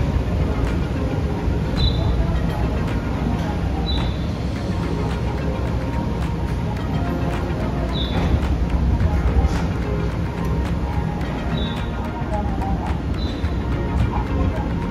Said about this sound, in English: Wow, it's exciting to actually see cars disembarking from the ferry.